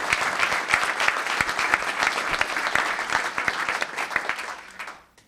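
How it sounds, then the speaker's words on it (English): A town council meeting audience gives a round of applause, dense crowd clapping with sharp individual claps, sustained for about five seconds before quickly fading out to silence. "Let's give them a round of applause as well"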